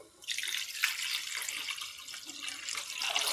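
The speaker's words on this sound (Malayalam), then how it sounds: "ഇനി ആവശ്യത്തിന് വെള്ളം ഒഴിക്കാം." Water poured into a pan of curry cooking with chilli, a steady close splashing stream that runs for about three seconds with no talk.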